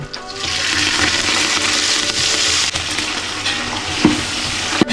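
Tomatoes and curry leaves for Hyderabadi fish curry sizzle loudly and steadily in a pan, with a few sharp clinks of stirring near the end.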